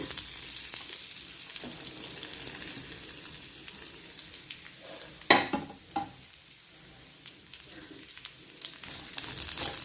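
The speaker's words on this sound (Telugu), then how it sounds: "ఇప్పుడు ఇదే నూనెలో పచ్చి కొబ్బరి ముక్కలు వేసేసుకోవాలి." Raw coconut pieces fry in hot oil for a Telugu coconut chutney, a faint steady sizzle broken by a sharp clatter and spatter as the pieces hit the pan, then stirring.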